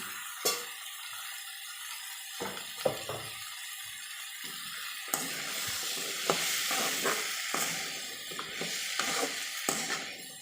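Chayote, okra and brinjal fry in oil for sambar, a soft hiss that swells into a fuller sizzle partway through, punctuated by scattered scrapes and knocks of a spatula against the pan.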